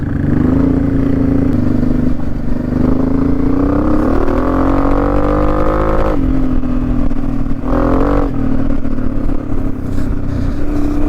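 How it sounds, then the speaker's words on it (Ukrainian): A motorcycle engine held at steady revs of about 4,000 rpm while riding, a loud continuous drone with only slight rises and dips in pitch, close to the listener and filling the whole stretch. "якщо тако їхати, рівні обороти тримати 4 тисячі, то він не голосно"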